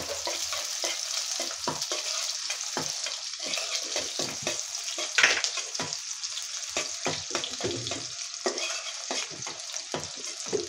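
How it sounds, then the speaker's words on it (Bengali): Thick-sliced onions sizzle steadily as they fry in a pan in a home kitchen, with repeated scraping and stirring strokes throughout and a brief clatter midway, no talk. "আমি নেড়ে দিচ্ছি"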